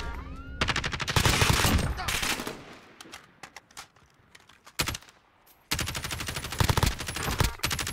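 Rapid automatic gunfire in the Warzone video game rattles in loud, dense bursts, pausing briefly before resuming, while players talk excitedly over the shooting.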